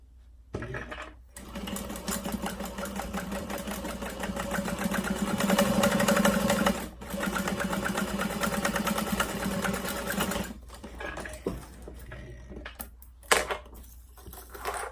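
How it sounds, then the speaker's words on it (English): A sewing machine runs steadily while stitching across the top of a fabric frame with its lining clipped on, humming close and continuous for several seconds with brief pauses and restarts. "I'm just going to sew all the way across the top."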